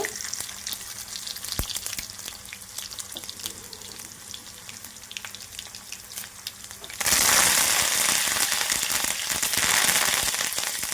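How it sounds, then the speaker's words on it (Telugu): Cumin, mustard seeds, chana dal and urad dal crackle and sizzle in hot oil, starting as a quieter spitting and jumping to a loud, dense fry partway through. "ఆయిల్ వేసుకున్నాం కదా. జీలకర్ర, ఆవాలు, పచ్చిశనగపప్పు, మినపప్పు అండి కలిపి పెట్టుకుంటాను నేను ఎప్పుడు."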